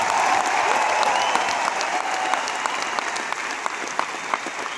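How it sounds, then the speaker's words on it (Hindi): A crowd at an anniversary gathering applauds a leader, sustained loud clapping that tapers slightly, with a faint voice at the start. "इससे ज्यादा और तालियां।"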